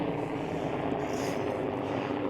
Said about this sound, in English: we have some helicopters here